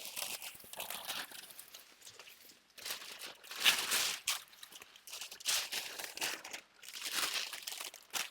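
Paper for a sewing pattern made from a T-shirt being folded over, with repeated crinkling and rustling in bursts and brief pauses, close and fairly soft, with no voices.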